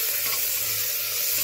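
Chopped onions sizzle loudly in a pan as they are stirred, a continuous close hiss and crackle without any talking.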